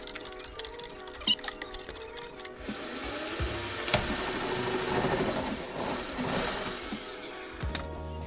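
Power drill driving self-tapping screws into plastic during a BMW E90 side skirt slider install: a sustained whirring motor with rising and falling pitch in bursts, moderately loud, after some quieter clicks and handling noises.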